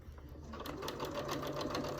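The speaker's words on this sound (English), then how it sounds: "sew this side down from the edge again at 1/4 of an inch" A domestic sewing machine stitches quilt binding a quarter inch from the edge, its needle running in a fast steady rhythm that picks up after a brief start, close and moderately loud with no talking.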